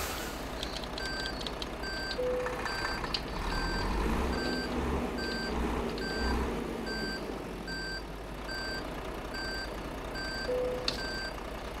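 A Renault Premium truck idles with a low, steady engine rumble while its reversing alarm beeps in a regular repeating pattern throughout, clear and fairly near, with a few faint clanks and no speech.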